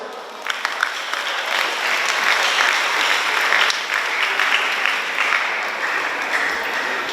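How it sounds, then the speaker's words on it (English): An audience at a high school graduation ceremony applauds the graduates, a sustained, dense round of clapping from a large crowd that stays steady for several seconds. "Once again, a round of applause to our graduates."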